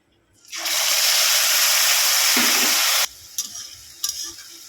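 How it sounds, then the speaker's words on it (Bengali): Onion paste hits hot oil with spices and bay leaf for a Bengali doi rui fish curry, bursting into a loud, dense sizzle that holds steady for a few seconds, then drops abruptly to quiet scraping and light clinks. "পেঁয়াজটাকে ভালো করে এবারে ভাজবো আমি"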